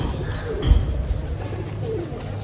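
Pigeons kept on a rooftop coo softly in low, repeated murmurs against steady outdoor background noise, with a brief thump partway through.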